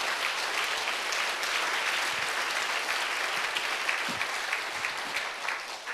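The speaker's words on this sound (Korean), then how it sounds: "자, 박수로 주님께 영광 돌립니다." Congregation clapping in a Sunday church worship service, a dense, even round of applause sustained for several seconds, heard fairly close with no speech over it.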